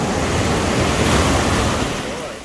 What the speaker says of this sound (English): there's waves coming.